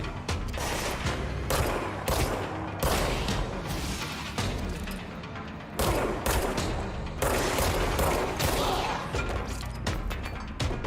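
Bursts of gunfire from the video game Control, loud repeated volleys with brief gaps between them, no talking.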